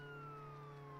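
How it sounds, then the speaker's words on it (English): A police car siren in a video game holds a steady, sustained electronic tone that slides slowly downward, loud and continuous throughout the short moment. "Why do we have the sirens?"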